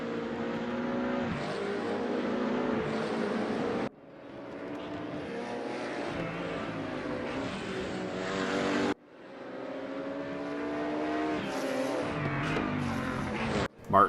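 Race cars lap Sonoma Raceway in a sim race, engines rising in pitch through long revving pulls, cut by sudden breaks and shifts, loud and close as each car passes.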